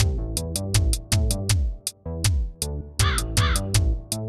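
A sampled crow caw repeats in quick rhythmic bursts within a live-coded electronic music jam, looping over steady bass and drum patterns, loud and up front in the mix.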